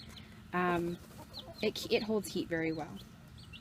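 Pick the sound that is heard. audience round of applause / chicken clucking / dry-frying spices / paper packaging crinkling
chicken clucking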